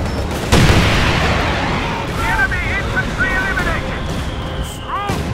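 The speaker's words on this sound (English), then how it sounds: "They fire freaking Katusha shells." Mortars launching Katyusha shells in the Company of Heroes 2 game: a sharp, loud firing blast followed by a long rumbling roar, with whistling shell sounds rising and falling over continuous battlefield noise.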